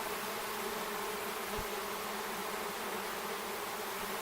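A small swarm of honey bees hums steadily and continuously throughout, a dense buzzing drone with a faint low thump partway through and no talking.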